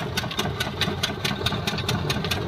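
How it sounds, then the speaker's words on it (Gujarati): A tractor engine idles nearby with a fast, even mechanical knock, a steady rhythmic chugging under a low rumble that holds for a couple of seconds. "આપણે ટ્રેક્ટર પર બેઠા, અમારું ટ્રેક્ટર છે"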